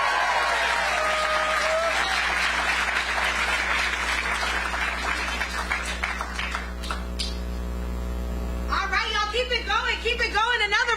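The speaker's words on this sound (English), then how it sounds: "Keep it going. Another round of applause." A crowd applauds and cheers at a campaign rally at Georgia Tech, loud and sustained, with shouting voices rising near the end over a low mains hum.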